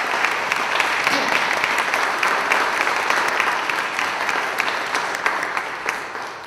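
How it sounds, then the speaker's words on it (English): Sustained audience applause at a lecture fills the room, dense and steady for several seconds and tapering slightly toward the end. "Please join me in giving all of our sponsors a round of applause."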